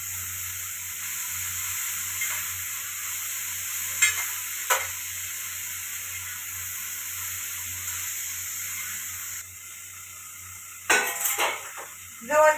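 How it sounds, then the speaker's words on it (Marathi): Cluster beans are stir-fried in a heavy pan, with a steady sizzle running throughout and a few sharp metallic scrapes and clinks of a spatula against the pan, with no talking. "गव्हाच्या शेंगा मस्त परतल्या आता मसाल्यात टाकून देते"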